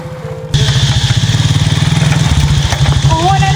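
A motor vehicle engine close by starts up and keeps running with a steady, rapid, throbbing pulse, loud and continuous, with a faint voice near the end.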